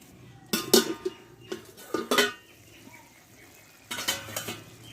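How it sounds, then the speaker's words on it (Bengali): Metal clanks and clinks as a lid comes off a pot of pumpkin curry in a home kitchen, several sharp separate knocks over a low simmering background with quiet gaps between them. "আমি ঢাকনাখান তুলে নেব তরকারিটা হয়তো সিদ্ধ হয়ে গেছে"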